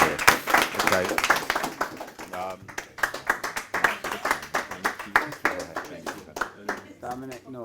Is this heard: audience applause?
yes